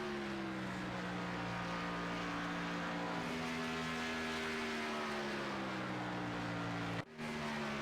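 Race cars lapping an oval at Kansas, a steady loud engine drone with rising and falling harmonic tones from several machines, broken briefly by a short dip near the end.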